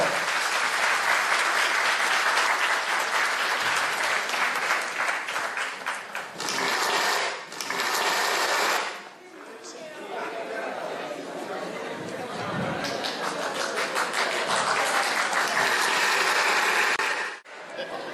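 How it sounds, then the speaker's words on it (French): Loud, dense applause from a crowd at a Guinean independence anniversary celebration in Manchester, with chatter mixed in, briefly dipping twice before swelling again and running on steadily. "Applaudissez très fort."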